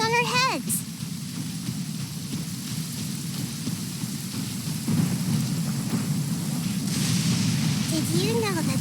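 Rain and thunder in the video game Genshin Impact: a constant rainfall hiss over low rumbling thunder, with brief melodic game chimes and sweeping effects at the start and end.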